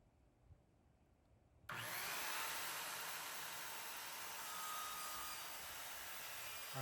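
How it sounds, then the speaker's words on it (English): A loud, steady high-pitched drilling whine of a spade bit boring through plywood starts abruptly after a quiet moment and runs continuously, close up, with no talking. "I'm gonna flip the plywood over and just drill through all the way"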